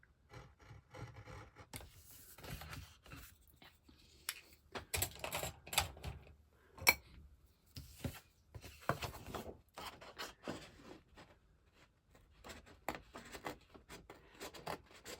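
Quiet, close-up cutting and snipping at paper with small scissors, irregular bursts of crisp rasping and clicks with short pauses between.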